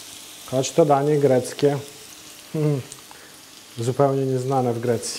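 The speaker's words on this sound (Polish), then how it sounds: "Rzucamy cebulę. I cebulę będziemy smażyć z przyprawami na sposób indyjski." Onion frying in hot fat with spices, Indian style, for a Greek-style fish dish: a steady low sizzle runs underneath as someone talks over it.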